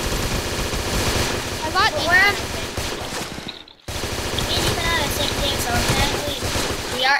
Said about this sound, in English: I have the ultimate gun right here.